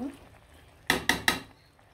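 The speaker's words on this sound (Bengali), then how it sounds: "আর এটা শুধু কষিয়ে দিব, কষিয়ে ভুনা ভুনা করে দিব।" Beef bhuna being stirred in a pot, with three sharp, close scraping knocks of a utensil against the pot over a low background of cooking noise.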